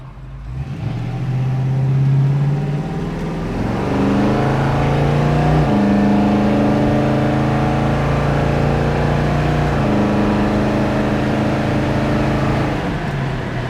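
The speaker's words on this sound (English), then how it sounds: "Let's take it through some gears here when we get a opportunity." A 1967 Ford Mustang with a 302 V8 pulls hard through the gears, its loud, close engine note climbing steadily and dropping back at each shift, with no talking over it.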